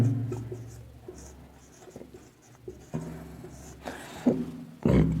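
Someone writes on a board during a Rajasthan geography lecture, making intermittent scratchy strokes and taps with short pauses between them, close by and fairly quiet.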